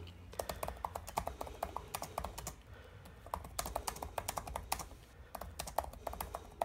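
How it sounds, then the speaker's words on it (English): Rapid clicking of keys on a computer keyboard, typed while wearing gloves, steady typing in quick bursts with short pauses, close up and fairly quiet. "you start typing like you normally would anyway"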